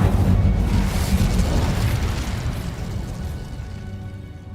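Incendio fire spell cast in the Hogwarts Legacy video game, a loud booming, roaring burst of flame that swells at once and slowly fades over several seconds, heavy in the low end with no voices over it.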